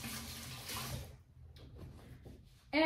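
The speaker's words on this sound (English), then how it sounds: "And just rinse that off my hands." Tap water runs over hands at a sink for about a second, then cuts off, leaving faint drips and handling sounds before a sharp burst at the end.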